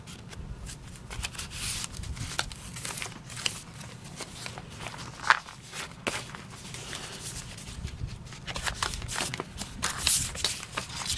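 Coffee-dyed paper pages are shuffled and handled close by, with a run of crisp rustles, soft flicks and papery scrapes of varying loudness.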